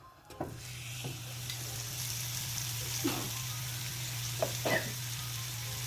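Leg of lamb searing in smoking-hot oil, a steady low sizzle running throughout with a few scattered sharper pops and crackles; no voices.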